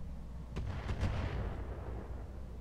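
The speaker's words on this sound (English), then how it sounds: "Mortar." Mortar fire in the RogueTech mod of the BattleTech video game, heard as a few muffled booming thuds in quick succession over a steady low rumble.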